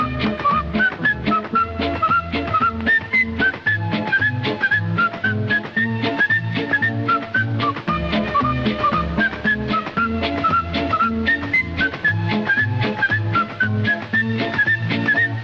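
A bright whistled melody carries an old Hindi film song over steady backing music, loud and continuous throughout, played on radio.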